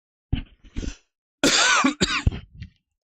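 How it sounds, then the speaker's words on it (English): A person coughs several times in quick bursts, close and loud, with a harsh, raspy throat-clearing quality between short pauses. "I got a cough"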